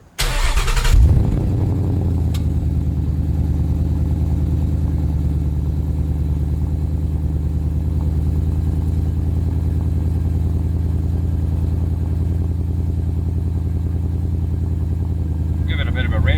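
Ford Mustang GT 2015-2017 V8 with factory air filter starting cold: a quick crank and loud catch, then a steady, deep, rumbling high idle held close by, with no talk.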